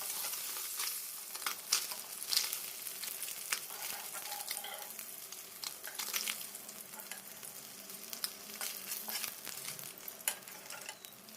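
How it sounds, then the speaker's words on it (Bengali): Small puti fish coated in salt and turmeric frying in hot oil, a steady crackling sizzle with sharp popping spatters scattered throughout, close and fairly loud, with no talk. "এবার পুঁটি মাছগুলো ভেজে নেব।"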